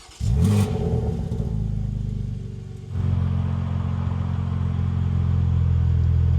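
A 2026 BMW M2 CS engine with an aftermarket exhaust cranks and fires up with a loud burst, then settles into a deep, rumbling idle from a throaty exhaust, close by.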